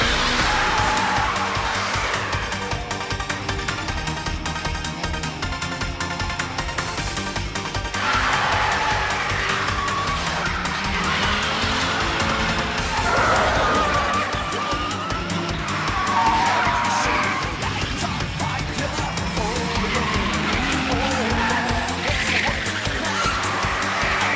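Car tyres screech and skid through an aggressive drift in a mountain street race, the squeal sustained and loud over revving engines and dense accompanying music throughout.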